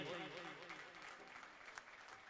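Clapping from an audience at a Prajapati Samaj community gathering in Mumbai, faint and brief, overlapping a voice speaking at the start.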